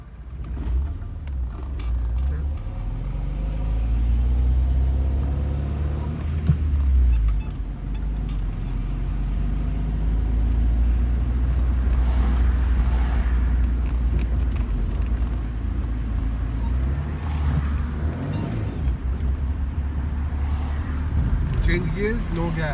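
A car engine rumbles low and steady while the car is driven during a driving lesson, with wind noise and an instructor talking over it.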